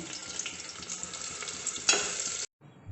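Onions frying in oil in a pressure cooker for a daig-style aloo gosht qorma: a close, dense sizzle with stirring scrapes that cuts off abruptly near the end.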